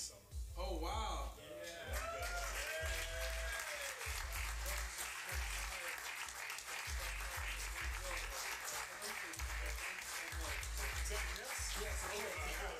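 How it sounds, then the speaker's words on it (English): Applause at a gathering where a USA Basketball invitation to the summer team is given, a steady, dense wash of clapping lasting throughout with excited voices talking over it. "Round of applause"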